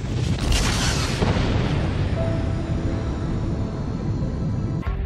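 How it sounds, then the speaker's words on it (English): A primordial fireball explodes in a loud, sustained rumbling boom, deep and continuous across the whole stretch, holding steady before a sharp cut near the end. "Billions of years ago, this fireball exploded."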